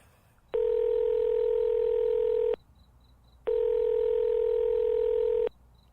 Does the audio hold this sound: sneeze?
no